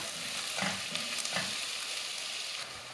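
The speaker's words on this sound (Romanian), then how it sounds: "După ce s-au înmuiat, adăugăm și ardeiul. Amestecăm puțin și lăsăm 2-3 minute." Bell pepper fries with potatoes and soy chunks in a pan, a steady close sizzle broken by a few soft stirring scrapes near the start.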